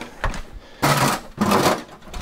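Rivet nuts being set into a metal switch mount for a bandsaw, heard as two drawn-out, gritty mechanical bursts after a brief knock, close by and with no talking.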